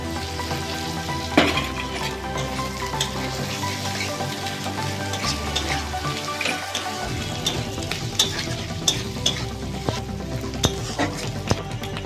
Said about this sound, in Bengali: এবার এই গেঁড়ি ভাজাটা দিয়ে দিচ্ছি।